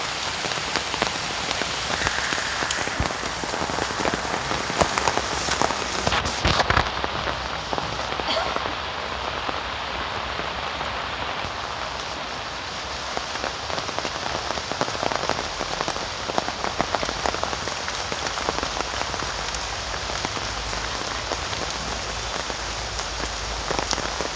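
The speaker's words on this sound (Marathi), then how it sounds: "पाऊस काय उघडत नाही आज" Steady, dense rainfall pours down without pause, a loud broadband hiss of drops hitting surfaces close by, with no voices.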